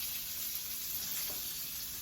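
Onions sizzle steadily in a skillet alongside rosemary, a soft continuous hiss of frying without any voices.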